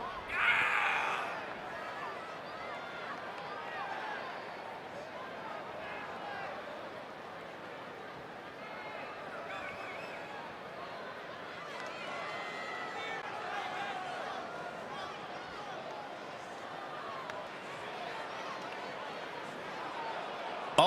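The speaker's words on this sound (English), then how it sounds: "it sounds to me like this crowd already picked the one who they want to win this match" A wrestling arena crowd roars steadily at a match, a dense wash of cheering and yelling that keeps up from start to finish and swells with a louder burst near the beginning.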